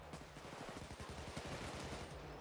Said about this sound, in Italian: Ti sparo dietro, Amaru.